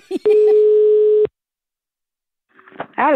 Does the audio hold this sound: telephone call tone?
yes